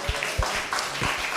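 A few scattered hand claps from a small audience at a Proviso Township property tax appeal meeting, thanking the assessor, sparse and fairly close.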